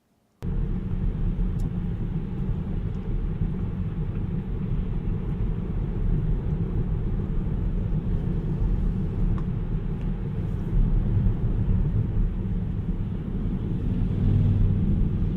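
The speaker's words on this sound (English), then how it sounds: "you can actually hear the vehicles coming from behind and going forward" Binaural recording from inside a car in traffic: a steady low rumble of road and engine noise with vehicles passing alongside, the roar swelling slightly toward the end, no talking.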